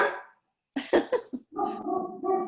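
Pet dogs indoors at home bark in a quick cluster of sharp, close barks, then let out a longer, sustained whining, growly vocalization. No one talks over them.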